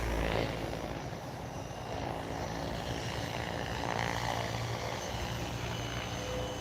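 A Goblin Raw 700 RC helicopter flies overhead with a steady, droning rotor and motor whine that holds at an even level for the whole stretch, with no talk.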